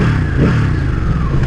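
A Ducati 959 Panigale motorcycle's exhaust gives a loud, close, rough engine rumble that holds steady through a short burst of revving.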